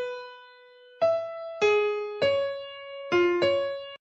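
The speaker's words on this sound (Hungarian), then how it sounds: "az egyik hegedű ezt a dallamot szólaltatja meg" Solo violin plays a slow melodic line from Tchaikovsky's Sixth Symphony, a held opening note followed by five bowed notes that alternate between steps up and down, clear, close and alone.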